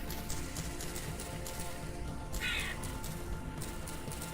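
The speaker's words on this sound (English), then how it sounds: "we're just hearing the sound of a crow that's like up in the tree or something" A crow caws from up in a tree in the Vintage Story game, a few rough calls repeating at intervals over a faint outdoor ambience, one call standing out sharper and nearer midway.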